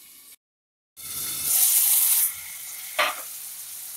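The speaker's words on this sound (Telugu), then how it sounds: "ఈ టమాటో ముక్కలు మెత్తగా అయిపోవాలి. ఇలా కాసేపు మగ్గించుకుందాం." Tomato pieces cooking down in a pan for a tomato sesame chutney: a brief silence, then a loud, steady sizzle that softens after a couple of seconds, with a short clatter near the end.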